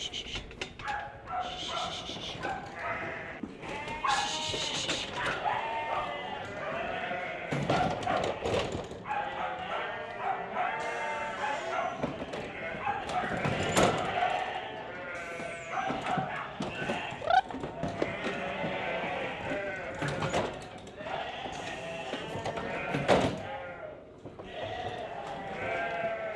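Ewes bleating repeatedly at a sheep shed, several overlapping calls near and far, with dog barks and shuffling hooves mixed into a busy, continuous farmyard din.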